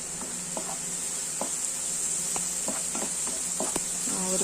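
Onions sautéing in a pan with black pepper and turmeric for a beans pepper fry, a steady close sizzle broken by scattered clicks and scrapes of stirring, with no talk.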